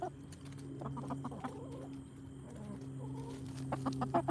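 Molting hens cluck and chatter close by in a continuous, busy stream of short calls over a steady low hum, with no talking.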